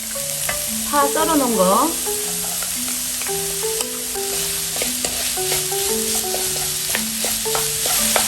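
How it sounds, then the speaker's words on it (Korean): Onion and garlic stir-fry in a spoonful of cooking oil with a bright, steady sizzle, close and continuous beneath background music. "식용유 1스푼, 양파 넣고 좀 볶을게요."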